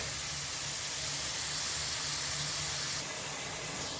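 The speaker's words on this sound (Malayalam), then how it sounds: "സവാള ആഡ് ചെയ്തിട്ടുണ്ട്. ജസ്റ്റ് ഒന്ന് ഫ്രൈ ചെയ്തെടുക്കാം." Onion fries in a pan with ginger, green chili and curry leaves, a continuous loud sizzle and hiss that stays steady throughout, with no voices over it.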